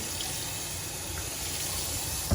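Running water steadily wets the rubber soles of Air Jordan 3 "Pure Money" sneakers during a restoration cleaning, a continuous close hiss from a tap with a brief louder splash near the end.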